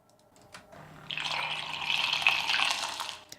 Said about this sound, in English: Next one is the milk frother.